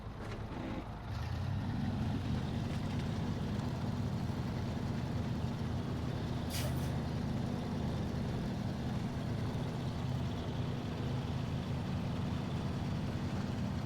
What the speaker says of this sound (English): This truck might be old, but it still gets the job done.